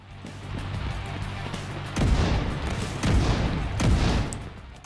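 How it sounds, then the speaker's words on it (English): Several deep booming bursts of fireworks go off in succession in The Division 2 video game, over a steady low rumble; no talking. "More fireworks."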